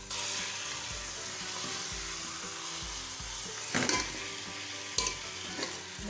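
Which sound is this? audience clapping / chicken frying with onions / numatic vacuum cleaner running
chicken frying with onions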